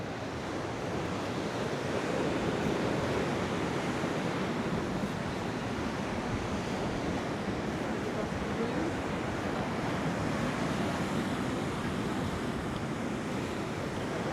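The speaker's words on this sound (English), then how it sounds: "I think this is one of the roughest seas I've seen in Mallorca for a long, long time." Rough sea waves pound the Mallorca coast at Costa de la Calma, a dense, continuous roar of surf and wind that stays loud and steady throughout, with no voices over it.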